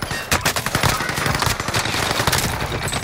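Rapid automatic gunfire in Call of Duty Warzone on Rebirth Island, dense bursts of loud close-range shots rattling almost continuously throughout.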